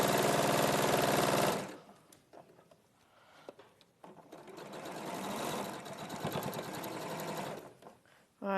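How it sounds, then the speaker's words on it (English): A sewing machine stitches rows together in a loud, steady whirring run for under two seconds, then drops to quieter intermittent stitching and handling noises, with some voice-like sound in the background. "I'm just sewing these rows together"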